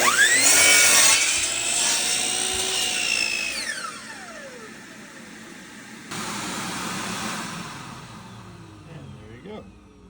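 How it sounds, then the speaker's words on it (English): A saw cutting wood for a king bed frame: a loud, close whining cut that sweeps down and fades, then a quieter rougher stretch of sawing noise, with no voices over it. "And line the saw blade up so that I have a little bit extra material."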